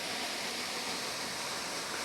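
A waterfall in a Japanese ryokan garden in Izu, a steady broadband rush of falling water heard from a short distance, constant and unbroken.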